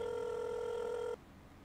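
A telephone rings in the GTA RP video game, one steady electronic ring tone lasting about a second before cutting off abruptly to quiet background.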